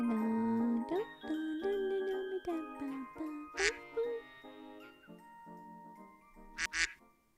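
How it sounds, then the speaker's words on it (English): Several nasal duck quacks with tones that slide in pitch, sounding in an uneven series over a light musical jingle, with two sharper bursts standing out. "Who's quacking?"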